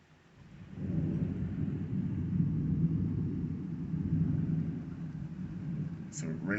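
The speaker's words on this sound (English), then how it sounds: "we still got some thunder that we hear in the background" Low rolling thunder rumbles steadily through a thunderstorm under a tornado watch, a broad sustained roar that swells after the first second and holds for several seconds, with a brief higher chirp near the end.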